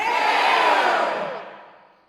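A cult gathering lets out a loud triumphant group cheer in a horror film, many voices joined in one sustained roar that swells and then fades away.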